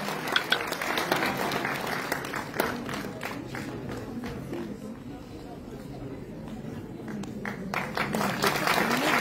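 Audience applause for a school prize winner at a Hindi school awards ceremony in Kashmir, a sustained rush of many hands clapping at moderate loudness, steady for several seconds and swelling slightly toward the end.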